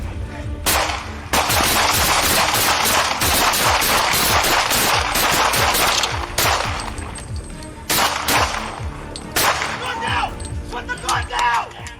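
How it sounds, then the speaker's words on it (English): Police officers and a suspect exchange gunfire in a shootout: a rapid volley of loud, sharp shots cracks close by, with several separate bursts and pauses between them. "He fired once toward officers, forcing them to respond with gunfire."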